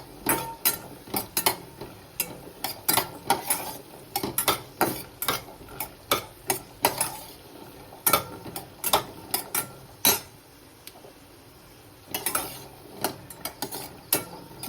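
Cashews are roasted in ghee in a pan and stirred with a metal spoon. The spoon makes frequent sharp scraping clicks over a soft background sizzle, in an irregular close-up rhythm that pauses briefly partway through.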